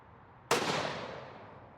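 A single 270 WSM rifle shot firing a Remington Core-Lokt 130 grain load outdoors: one sharp, loud crack followed by a long fading echo trailing off over more than a second.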